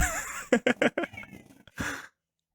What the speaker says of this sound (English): I can hear the cat.